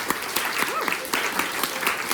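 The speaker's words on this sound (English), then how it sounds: "What about a little round of applause for Xiye?" Audience at a fireside keynote applauding climate activist Xiye Bastida: scattered, sharp claps from a smallish crowd with distinct individual hits, while a voice murmurs faintly underneath.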